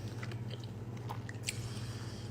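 Quiet, close chewing of crunchy Kraft mac and cheese, with soft irregular bites and crunches over a steady low hum and no talking.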